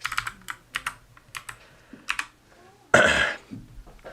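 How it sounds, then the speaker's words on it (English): Typing on a Moonlander keyboard with Kailh Gold switches: a run of crisp, close keystroke clicks in an uneven rhythm, then a brief louder burst of noise near the end, with no talking. "It is the Moonlander with Kale Gold switches."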